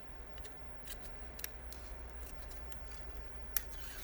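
Scissors cutting out paper pieces, with a few quick, close snips and soft rustling between them. The cuts are faint and no one speaks.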